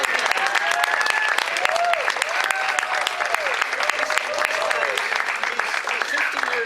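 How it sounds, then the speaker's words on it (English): An audience at a community gathering claps for a man's 50th birthday, a loud, steady round of applause with voices and whoops woven through it. "I want everyone to give Ray a happy birthday clap."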